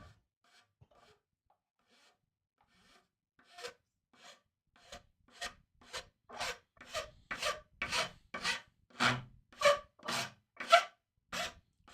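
Hand rasp or file working the curved edge of a wooden spice rack, a steady series of rhythmic scraping strokes that begin faint and sparse, then grow louder and faster, close up with no talking.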